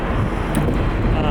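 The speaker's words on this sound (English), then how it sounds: "It's kind of windy." Steady, loud wind buffeting a Saramonic SR-VRM1 microphone while skateboarding outdoors, a constant low rumble that fills the whole clip with no other clear sounds.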